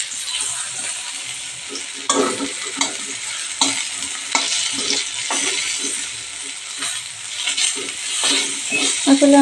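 Pointed gourd (potol) frying in a pan, with steady sizzling and intermittent stirring scrapes and clinks throughout, close and fairly loud with no talk.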